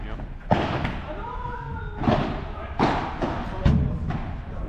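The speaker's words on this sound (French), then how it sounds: "Et là un joli par 4 de Julien." A padel ball struck hard in a smash during a P100 tournament round-of-16 match at Grenoble Tennis, several sharp thuds of ball on racket and glass walls ringing out over a commentator's voice.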